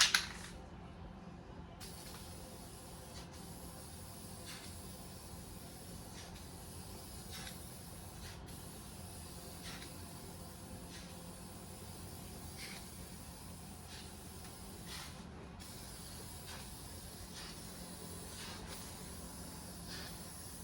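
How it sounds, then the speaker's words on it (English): A spray gun applying paint to the driver side of a car in a workshop, giving a steady, continuous hiss throughout with brief pauses in the spraying, no talking. "once I spray this and I have a little bit of overspray on there, it's okay"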